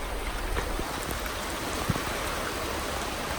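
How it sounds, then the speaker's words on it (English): Steady, dense rain hiss fills the whole stretch, with scattered drops and splashes hitting a surface close by; no voices. "It's pouring."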